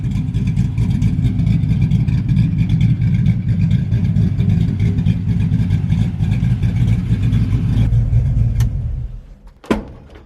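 An LS-swapped Chevrolet S10 pickup engine roars steadily under load on the street, a deep sustained rumble that holds loud for several seconds before abruptly cutting off, followed by a sharp click.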